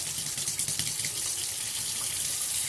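Hot water running from a tap into a glass jar to rinse out leftover Alfredo sauce, a steady close hiss and splash that carries on without a break.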